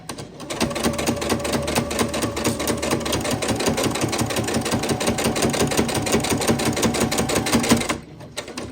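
A sewing machine stitches fabric for an easy Christmas sewing project, running in a fast, steady, close mechanical rattle for about eight seconds before stopping abruptly.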